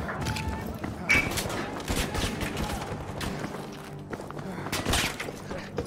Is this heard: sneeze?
no